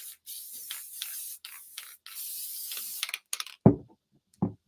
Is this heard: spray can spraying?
yes